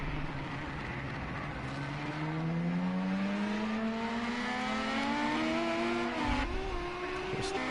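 Renault Megane V6 race car in a racing video game on a Hockenheim circuit, engine rising smoothly in pitch through a long pull, then shifting and climbing again, close and steady.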